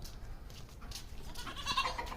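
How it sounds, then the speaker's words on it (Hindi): A Barbari goat bleats faintly and briefly near the end against a quiet outdoor background with soft rustling. "बरबरी बकरी है मेरे पास, और आइए बकरी भी दिखाते।"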